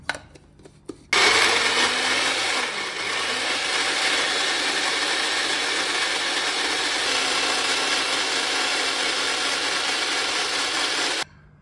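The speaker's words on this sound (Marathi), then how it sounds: "मिक्सरच्या छोट्या भांड्यामध्ये आपण पहिला हा कांदा घेतलेला आहे आणि त्यातच टमाटो बारीक केलेला घातलेला आहे आणि हे आता फिरवून घेऊन याची एक प्युरी तयार करणार आहोत" Electric mixer with a small jar grinding onion and tomato into a puree, a loud steady whirring that starts abruptly after a brief rattle and runs continuously for about ten seconds before cutting off.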